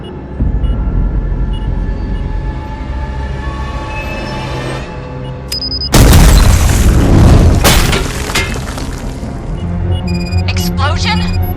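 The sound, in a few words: explosion in Robocop Rogue City video game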